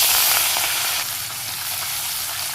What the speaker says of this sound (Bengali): তেল গরম হয়ে গেছে মাছগুলো ছেড়ে দেবো